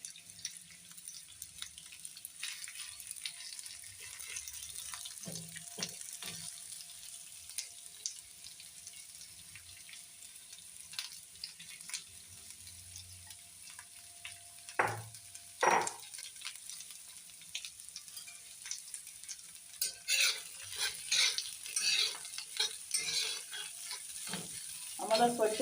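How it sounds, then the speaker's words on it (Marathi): Onion frying in two spoons of oil in a pan in a home kitchen, a faint, quiet sizzle with scattered clicks and scraping stirs, louder bursts of utensil contact near the middle and end. "कांदा चांगल्या प्रकारे भाजून घेणार आहोत."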